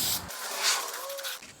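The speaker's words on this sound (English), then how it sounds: "and then I'm actually using spray paint" Spray paint hisses from an aerosol can onto a wooden candy corn and pumpkin yard sign, one steady close burst of about a second alone.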